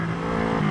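A brief, steady Honda CB360 motorcycle engine rumble with a raspy, unmuffled straight-pipe exhaust note and no air filters, close by and moderately loud, with no talking.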